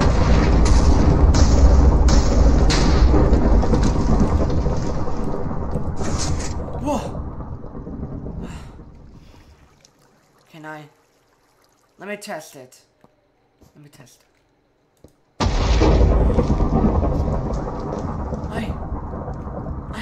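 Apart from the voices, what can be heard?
thunder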